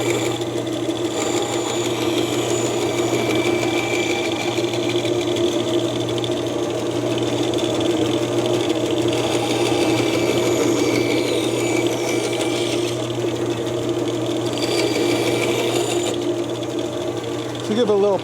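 A bandsaw motor runs continuously in a workshop, a steady, loud mechanical hum and whir throughout, with people talking over it.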